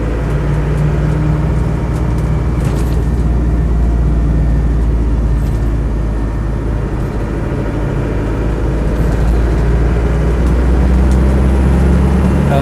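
A Land Rover 90 with a 300Tdi diesel engine and soft top drives along, its steady loud engine drone and road rumble running unbroken, with no talking.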